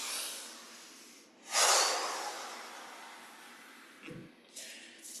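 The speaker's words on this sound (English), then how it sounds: "And then deep breath in." A deep breath in during a guided sound-therapy breathing exercise, an audible airy inhale swelling then fading, followed by quieter breathy rustles, close and fairly soft.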